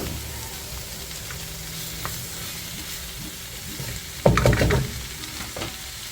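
Onion stir-fried in rendered bacon fat gives a low steady sizzle, then a sudden loud burst of spattering and scraping as the pan is stirred, settling back to a quieter fry.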